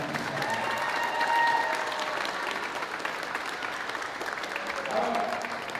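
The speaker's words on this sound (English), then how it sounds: "Let's give a special round of applause." Warm audience applause at a school theater state send-off, a continuous wash of clapping with voices and faint cheers mixed in throughout.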